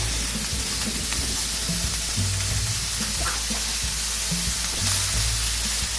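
Fish seasoned with salt and pepper fries on a hot tawa, a loud continuous sizzle filling the space while a utensil gives it a few quick stirs with soft scraping and knocks.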